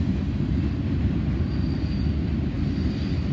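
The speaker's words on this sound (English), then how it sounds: "this has got a little bit of everything here on this general merchandise train" A general merchandise freight train rolls past close by, its heavy, steady rumble of wagons continuous throughout, with a faint high wheel squeal rising briefly.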